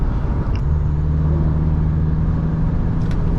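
Isuzu D-Max X-Rider 1.9 turbo diesel pulling away on the road, a steady low engine drone with constant road and wind rumble filling the interior, loud and continuous with no talk.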